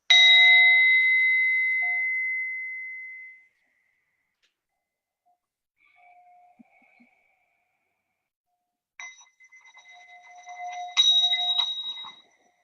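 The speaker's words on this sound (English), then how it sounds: "Let's get it started with our bell sound." A bright bell chime rings out and slowly decays, followed by silence, then a second, messier burst of overlapping chimes and clangs that tail off.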